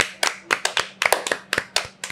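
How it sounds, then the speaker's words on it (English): Hands clap in a quick, uneven run of about a dozen sharp, close claps, heard alone over a faint low hum. "Can we first let's clap for joy?"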